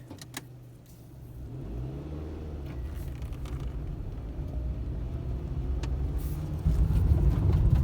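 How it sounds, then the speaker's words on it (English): A Toyota Yaris 1.0 VVTi pulls away and drives, its engine note a low steady rumble heard from inside the cabin that builds gradually and swells louder near the end, with no talking. "Let's go for a little drive, shall we?"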